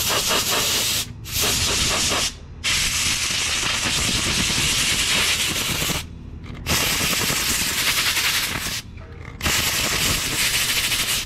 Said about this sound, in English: blow it from the inside out. Another reason you need an air compressor